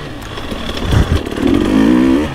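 A close, loud enduro motorcycle fitted with a Coober factory ECU revs up and keeps pulling at high engine speed, its tone climbing steadily.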